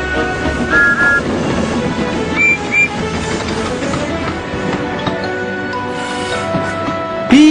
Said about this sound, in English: Beep, beep, whistled Percy.